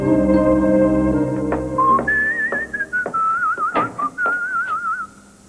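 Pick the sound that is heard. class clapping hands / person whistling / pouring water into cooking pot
person whistling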